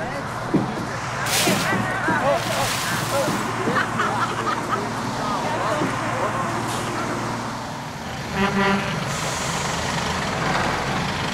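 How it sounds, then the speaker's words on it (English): A big truck carrying hot air balloons drives along a road in Sri Lanka, its engine rumbling with a hiss of air brakes, while crowd voices chatter around it. "The big truck has enough space for all 14 festival balloons."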